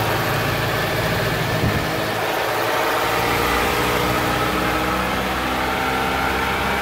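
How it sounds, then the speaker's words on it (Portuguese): Mitsubishi ASX 4x4 running in four-wheel drive, a steady close engine drone with low rumble and mechanical whir, holding an even level throughout with no talk. "Mitsubishi ASX 4x4 em funcionamento. Vendo o barulho da tração do carro."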